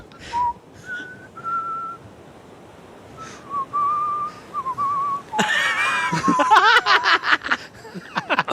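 A person whistles a songbird imitation in short, clear tonal phrases with pauses between them. The whistling gives way to a burst of laughter and lively voices.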